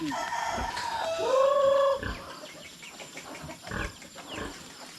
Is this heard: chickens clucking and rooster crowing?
yes